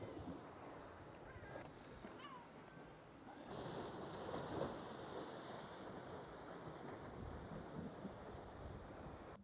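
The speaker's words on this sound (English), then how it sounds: "Those waves are just crashing from the shore." Ocean waves crash and wash along a narrow rocky stretch of shore on the Algarve coast in Portugal, a steady roar that swells around midway, with wind buffeting the microphone throughout.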